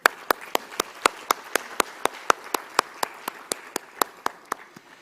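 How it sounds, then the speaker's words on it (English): A handful of people clap in a steady, even rhythm at an awards ceremony honoring business reform winners, each sharp clap distinct and evenly spaced, fairly close and moderately loud with no talk over it. "A huge round of applause, please, for all our incredible winners tonight"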